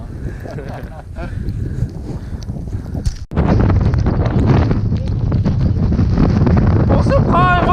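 Strong wind roars and buffets the microphone while hiking in the Dévoluy mountains, with a sharp thump midway after which the gusting grows louder and more constant.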